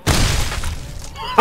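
A gecko's head bursts in the video game Fallout: New Vegas, a loud booming crack with a splattering tail that fades out, followed by a brief bright metallic ring at the end.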